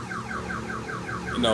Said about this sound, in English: Well, then let my alarm turn off for a minute.